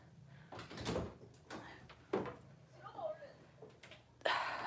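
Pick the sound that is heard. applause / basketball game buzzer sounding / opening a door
opening a door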